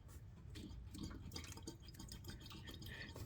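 Continuous watery trickling and dripping as coolant drains from a Porsche 944 engine before water pump removal, fairly close, with no voices.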